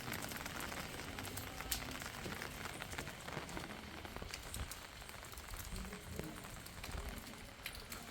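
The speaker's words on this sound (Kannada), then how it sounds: "ಜನ ಕೊಡೆ ಹಿಡ್ಕೊಂಡೆ ಮಳೆಯಲ್ಲೇ ನೋಡ್ತಾ ಇದ್ದಾರೆ" Steady rain pours across the campus of the Madhukeshwara temple at Banavasi, with crowds sheltering under umbrellas; a dense, even hiss of drops spatters on nearby surfaces throughout, with occasional sharper taps and no clear voices.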